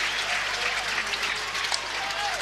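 Spectators at the NCAA Baseball Championship game between Kentucky and Oregon State cheer and applaud in a steady, distant roar, with a faint voice underneath.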